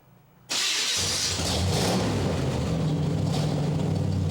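A car engine cranks and catches after a short quiet moment, then settles into a loud, rough, rumbling idle up close.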